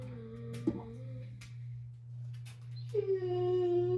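A dog whines and howls in rising, wavering tones, with a steady low hum underneath and a brief higher yelp partway through.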